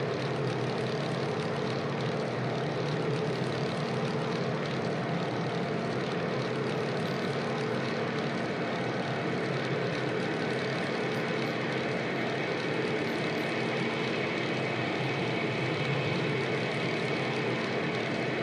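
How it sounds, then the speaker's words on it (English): A Grumman aircraft's engine in Microsoft Flight Simulator holds a steady, even propeller drone with no talking. "I love this aircraft, the Grumman. It's just a really sweet aircraft to fly around in."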